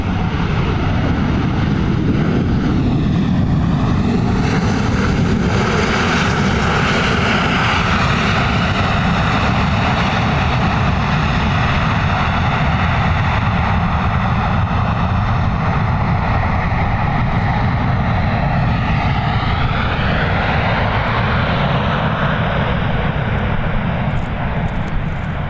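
A jet airliner's engines after touchdown at an airport, a loud, continuous broadband roar with shifting tonal whine, rising and falling as the aircraft rolls out, heard without talk.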